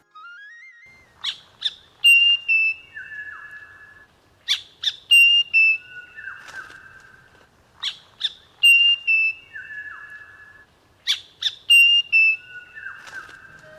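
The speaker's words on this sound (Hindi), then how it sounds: "पर पक्षियों के इस समूह में मनमोहक लगती है हिमालयन ब्लैक बुलबुल।" A Himalayan black bulbul and other birds call in the Kumaon hills: a clear phrase of sharp chirps and sliding whistles repeats four times at a steady pace, close and alone against quiet.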